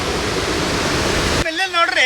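The Dudhsagar waterfall pours heavily onto a railway track as a loud, dense rush, then cuts abruptly to quieter sound with a tonal ring in the final half second.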